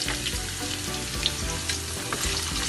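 Carrots are added to garlic frying in a pan for fried rice. The oil gives a steady, close sizzle with soft crackles and faint stirring scrapes, and no voices are heard.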